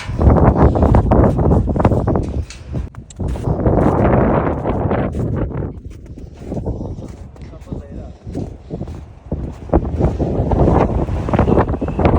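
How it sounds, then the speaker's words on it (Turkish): Strong gusts at a mountain viewpoint buffet the microphone in loud, roaring bursts that rise and fall, with a voice speaking intermittently beneath the rumble. "Nasıl bir rüzgar?"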